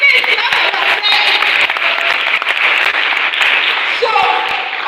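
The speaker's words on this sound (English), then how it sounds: "Please clap for yourself." A workshop audience at a youth development event claps together, a dense, loud burst of applause that holds steady for several seconds, with a few voices mixed in.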